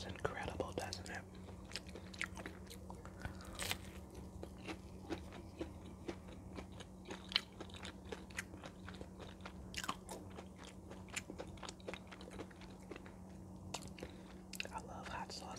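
Close, quiet biting and crunchy chewing of home-cooked fish, with repeated sharp crisp crunches and wet mouth sounds over a steady low hum, no talking.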